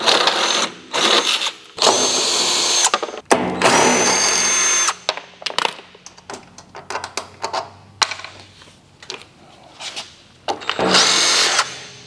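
A power tool unbolts new shop equipment from its shipping pallet in loud, close whirring bursts, with clanks and rattles of bolts and metal between runs.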